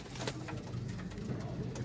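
Pigeon chicks of the Master Abdullah breed cooing in a loft: soft, low, continuous coos close by, with faint background noise and no talk.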